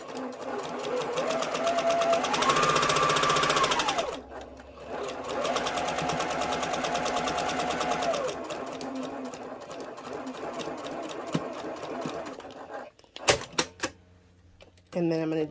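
Sewing machine stitching quilt pieces in two loud, steady runs of rapid whirring, each ending as the needle stops, followed by a few clicks and handling sounds.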